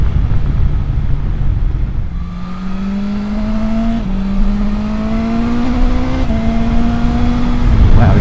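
A 2024 BMW S1000XR sports-tourer motorcycle engine pulls steadily while riding, its rising tone climbing through the gears with brief dips at each shift, loud and close over constant wind rush.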